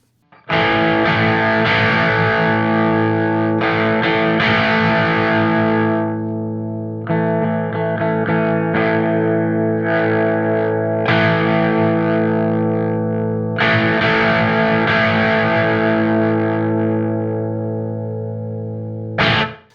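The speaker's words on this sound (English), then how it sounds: "So it's a distortion and a modulation pedal." A heavily distorted electric guitar through an OBNE Screen Violence distortion and modulation pedal drones on sustained chords with a wavering, swirling modulation effect, loud and continuous throughout, no speech.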